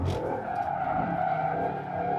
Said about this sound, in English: stay on the gas to get into boost, to get it really to maintain that drift